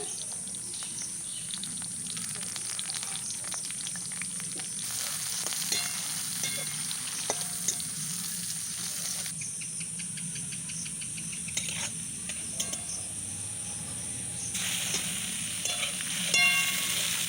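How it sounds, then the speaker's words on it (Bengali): Bay leaf, chopped onion and whole dry chillies frying in hot oil for a mutton curry, a steady moderate sizzle with occasional stirring scrapes and faint chirping in the background. "তেলটা গরম হয়ে গেছে ফোড়নে দিয়ে দিলাম তেজপাতা দিয়ে দিলাম পেঁয়াজ কুচি দিয়ে দিলাম গোটা শুকনো লঙ্কা"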